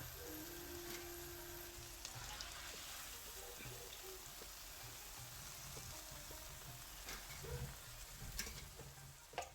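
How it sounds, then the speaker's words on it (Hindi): Churros deep-frying in hot oil, a soft steady bubbling hiss with occasional light clinks and taps of a utensil, fairly faint throughout. "इसी तरह से मैं सारे चेरोस को फ्राई कर लूँगी।"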